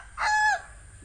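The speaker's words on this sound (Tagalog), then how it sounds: "napakarami ding manok" A single short, loud call from a native chicken, a harmonic squawk lasting under half a second, close by, with faint background noise after it.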